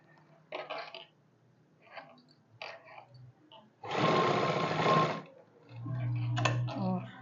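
A sewing machine stitches a trouser pocket in short bursts, brief whirring runs followed by one longer steady stretch of rapid needle clatter, fairly quiet and close, with pauses between.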